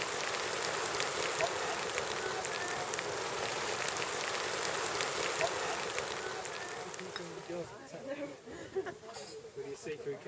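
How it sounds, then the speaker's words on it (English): Light rain falls on Kilimanjaro, a steady, dense patter that fills the whole stretch and eases slightly near the end, with murmured voices underneath. "So it's raining just a bit."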